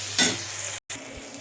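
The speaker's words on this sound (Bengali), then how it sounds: "ভালো করে মশলাটা কষায় নেবো, মানে কি ভালো করে ভাজিয়ে নেবো মশলা লাল লাল করে।" Spice paste for chicken curry frying in hot oil in a pan, a steady close sizzle with stirring scrapes, broken by a brief silent gap before the frying resumes.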